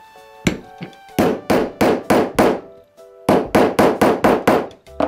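A hammer drives a setting tool to fix a metal eyelet in fabric for a sewn shoe bag, striking in two quick clusters of loud, sharp blows, five and then six in a row, each ringing briefly, with no talking.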